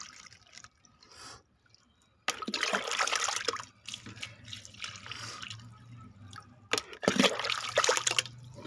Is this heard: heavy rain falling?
no